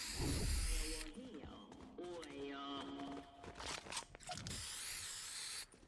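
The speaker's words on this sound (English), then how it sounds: "I don't know what that is that I'm spraying all over the place." Graffiti being sprayed in Fortnite, a series of hissing spray bursts broken by short mechanical clicks and ratcheting game effects, fairly loud and busy, with no talk over it.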